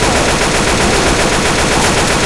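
Loud, dense gunfire in Left 4 Dead 2 blasts continuously, a rapid machine-gun barrage with no pauses or voices, sounding close and harsh.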